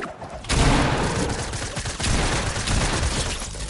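Dense gunfire in the video game Fortnite, a loud, close burst of rapid overlapping shots that runs almost without a break.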